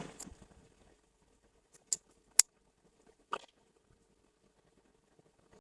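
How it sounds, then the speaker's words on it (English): Scissors snip excess yarn from a crocheted flower coaster: a few sharp isolated clicks spaced across otherwise near-silent quiet. "Then cut the extra yarn"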